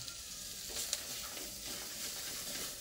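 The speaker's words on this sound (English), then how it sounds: "And then we keep on stirring." Sukuma wiki frying in cooking oil in a pan, a steady close sizzle and hiss with soft stirring scrapes and a small clink, no voices.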